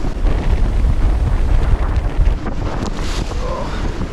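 Strong wind roars across a sailboat in a storm at about 25 knots, loud and steady, with microphone buffeting and a washing rush of water and waves beneath.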